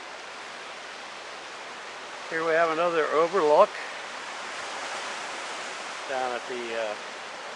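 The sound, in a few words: Atlantic Ocean waves crashing against base of cliffs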